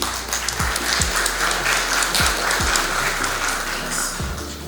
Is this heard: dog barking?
no